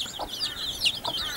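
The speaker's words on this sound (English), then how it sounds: "healthy little chicks, these ones" Soft, high chirping peeps from chicks, rising and falling in quick warbling calls, close and fairly quiet.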